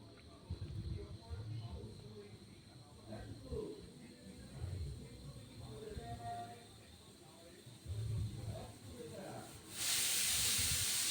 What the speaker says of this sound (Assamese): ইয়াত এতিয়া মই শাকখিনি দিম